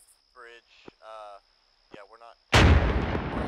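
Artillery battery in Arma 3 fires a single loud, sharp blast that rings out into a long rumbling tail, preceded by brief talk over radio chatter.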